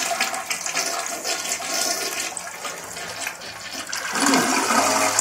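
A 1.6-gallon-per-flush toilet fitted with a Fluidmaster system flushes loudly up close, a rushing swirl of water that drains and then gives way to the tank refilling.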